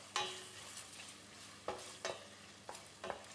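Ginger garlic paste frying in a pan is stirred, giving a steady soft sizzle broken by a few scraping strokes of the spoon at irregular intervals, close and moderately quiet with no talking.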